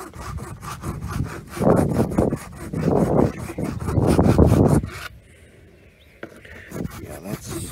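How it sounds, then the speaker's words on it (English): Beveled hand file rasping over Bondo filler on a Corvette C3 dashboard, repeated close back-and-forth scraping strokes in bursts, then a quieter pause with faint handling. "off with my beveled file here"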